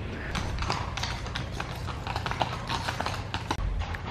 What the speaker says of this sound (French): il y a des bruits de sabots, ça commence mal